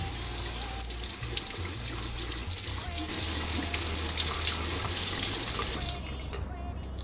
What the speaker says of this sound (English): I'm gonna start off by cupping my hand and letting the water roll off my arm.